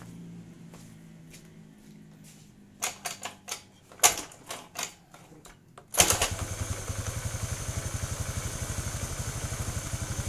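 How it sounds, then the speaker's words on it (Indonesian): A Honda Beat carburetor scooter engine idles steadily with a fast, even putter after several sharp clicks and clatters from nearby handling. "Ini motor masih hidup."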